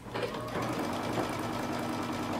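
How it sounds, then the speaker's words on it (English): A sewing machine runs steadily, top stitching along the edge of a lace sweater knit dress, giving a close, continuous mechanical whir with fast regular needle rhythm. "I want you to top stitch all the way around, right along the edge."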